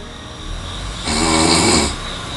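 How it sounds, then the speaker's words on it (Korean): A person sleeping at home during a sleep study with portable monitoring equipment lets out one loud, rasping snore, a rough buzzing breath lasting about a second against a steady background hiss. "잠이 들자마자 연신 코를 골기 시작했다."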